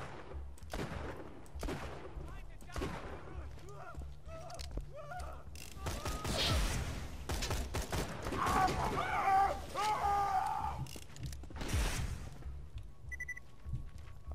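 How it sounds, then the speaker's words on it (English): Gunfire in the first-person shooter Borderlands 2, with rapid bursts of shots cracking repeatedly over mechanical clanks and creaks, loud and nearly continuous throughout the battle. "now I gotta shoot people."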